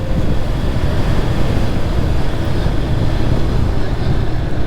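A Lifan KP Master KPM200 motorcycle cruises at about 54 mph and 6,000 RPM, its steady engine drone mixed with heavy wind rush at close range, loud and unbroken.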